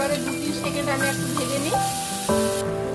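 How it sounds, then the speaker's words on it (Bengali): Ginger and green chilli frying in hot oil for a lentil dish, a bright continuous sizzle with a sharper burst partway through, close and fairly loud. "আদা কাঁচা লঙ্কা এক চামচ থেকে দেড় চামচ দিয়ে দিলাম দিয়ে আমি এটাকে ভালোভাবে দু তিন সেকেন্ড আমি একটু ভেজে নিই"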